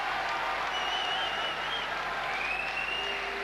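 A boxing crowd applauds and cheers at the end of a round, a continuous wash of clapping and crowd noise with a commentator's voice faintly under it.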